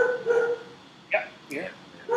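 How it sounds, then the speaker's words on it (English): A dog barks a few short, fairly faint times in the background while people talk through the scene. "I don't know what the dog is barking about."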